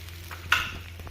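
Food roasting in a pan on a home stove, heard as a faint background sizzle with a low hum and one brief scrape of a spoon stirring, close and quiet with no speech.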